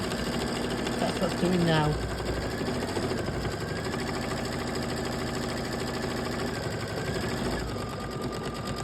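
An embroidery machine sews a satin stitch with a fast, steady mechanical chatter that runs throughout. A voice speaks briefly over it near the start.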